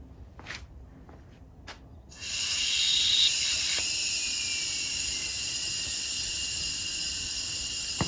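Compressed air rushes into an Eastwood media blaster tank, a loud steady hiss starting abruptly after a few quiet knocks and holding constant to the end, close by and alone.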